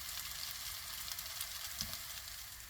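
Tofu sizzling steadily in a covered pan over the lowest heat, a soft, even hiss of frying with no talking.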